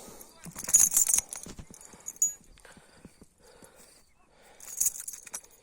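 A horse at pasture in a Ukrainian stud setting, with hooves clip-clopping in scattered bursts amid outdoor noise while someone talks nearby.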